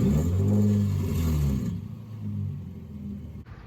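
A car fitted with test pipes in place of catalytic converters revs hard, a loud low rumbling roar that drops after a second and a half into a rougher, uneven idle with a rattling edge.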